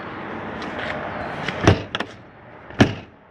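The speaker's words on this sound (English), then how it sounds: "Now this door here, over on this side, you just have to slide that all the way over here." An RV's sliding interior door on a Jayfeather Micro 166FBS travel trailer is pushed shut and latched, giving a loud thud, a quick double click, then a second firm knock near the end, all close and with no talking.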